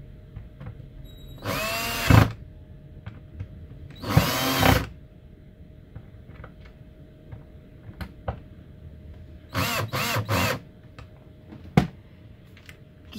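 A cordless power drill drives screws into a metal wheel hub with a gravel tire on a WPL C14 RC truck rim, sounding in three separate whirring bursts, the last a quick run of short pulses, with a few light ticks and taps between.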